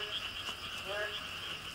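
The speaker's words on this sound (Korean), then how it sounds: "와, 개구리가 여기도 있고 저기도 있고." A chorus of frogs croaks and trills continuously, with many overlapping calls at a moderate distance and a steady background hum.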